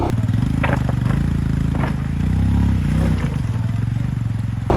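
A Royal Enfield Himalayan motorcycle ridden off-road over rocks, its single-cylinder engine thumping and rising in pitch as it labors, with scrapes and clatters from the rough ground, loud and close throughout.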